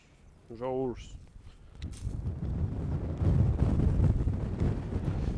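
A brief voiced sound at the start, then heavy wind buffeting the microphone during spring sowing in a field, rumbling louder and more constant as it goes on.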